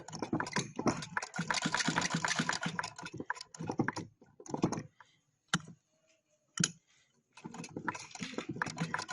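A sewing machine stitches pink trousers in bursts of rapid, rhythmic mechanical clatter, starting with a long run, then short stops and starts, then another sustained run near the end.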